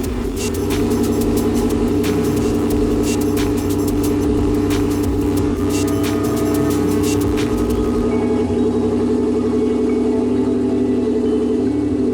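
A car engine idles with a steady, loud rumble close to the ear, holding an even drone throughout with only slight wavering.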